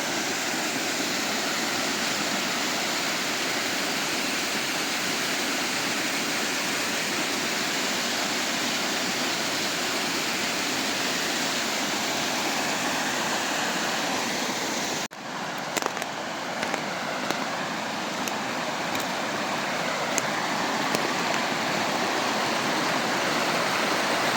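Cascades of a waterfall on the Dubašnica pour in a dense, continuous rushing roar, loud and close, with a brief break partway through before the steady torrent resumes.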